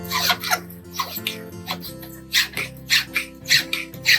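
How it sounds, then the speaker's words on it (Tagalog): A flat file rasping on metal held in a bench vise, a series of rhythmic scraping strokes about every half second over a humming tonal background, close and clear. "Yung flat file, ipa-file natin yung loob."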